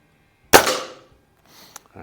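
A Feinwerkbau 124 spring air rifle fires one sharp, loud shot at an indoor range, its crack decaying over a fraction of a second, followed by a faint distant tick.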